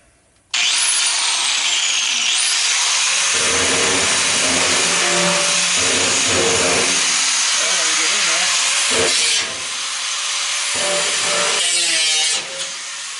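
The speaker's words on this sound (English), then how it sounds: "Fixing to run the angle grinder" An angle grinder cuts through a clothes dryer being scrapped for copper and aluminum, a loud, harsh metallic screech that starts abruptly and runs on with shifting pitch and brief dips as the disc bites.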